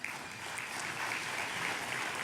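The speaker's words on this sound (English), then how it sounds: "How about a round of applause for the Honor Guard" Steady audience applause for an honor guard at a sheriff's office awards ceremony, a dense even patter of clapping hands that holds throughout without voices on top.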